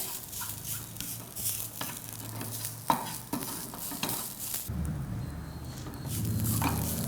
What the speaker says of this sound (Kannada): ಇದು ಲೋ ಫ್ಲೇಮಲ್ಲೇ ಹುರ್ಕೊಳ್ಬೇಕು ಸಣ್ಣ ಅವರಿಲಿ ಹುರ್ಕೊಳ್ಬೇಕು ಇಲ್ಲಾಂದರೆ ಸೀದೋಗುತ್ತೆ